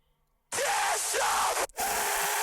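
A harsh, distorted scream sample in a music track, loud and sustained for about a second and a half, breaking off briefly before another screamed burst takes over, with no talking.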